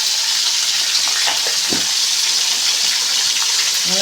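Chicken pieces with a little turmeric fry in a pan, producing a loud, constant hiss of sizzling oil with a couple of brief stirring scrapes and no talking.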